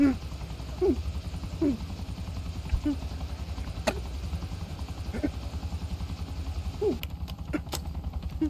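A helicopter in a video game thumps steadily throughout with a low, continuous rotor beat, while faint short chirps and a few sharp clicks sit on top.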